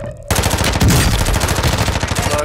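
Rapid automatic gunfire in the video game Call of Duty: Modern Warfare II, a loud, dense burst of rattling shots firing continuously for a couple of seconds after a brief quieter lead-in.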